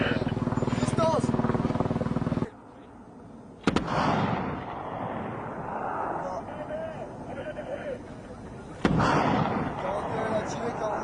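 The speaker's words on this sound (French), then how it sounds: "C'est les canons 20 là." Heavy rapid 20 mm cannon fire bursts out loudly in several bursts separated by quieter gaps, with people talking in French in between.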